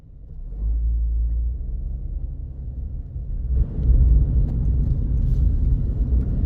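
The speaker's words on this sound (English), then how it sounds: "there is actually some engine noise" A Scion xD idling while parked in a parking lot, a steady low engine rumble heard from inside the car that grows a little louder and fuller partway through.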